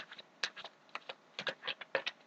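Tarot cards being shuffled close up, a quick series of crisp riffling taps and soft slaps, irregular and fairly quiet.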